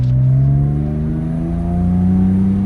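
Porsche 997 GT3 engine, still cold after a transmission fluid change, drones steadily while driving, a loud close tonal hum with pitch rising slightly as it pulls, no voices present.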